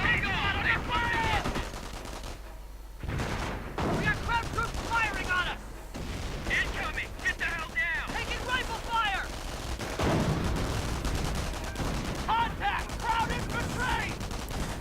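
Artillery and gunfire in a 1v1 World War II strategy game between US and Wehrmacht forces, with continuous overlapping shots and booms under steady commentary.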